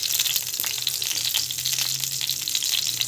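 Mustard seeds frying in hot oil, a dense, continuous sizzle and crackle heard up close with no talking.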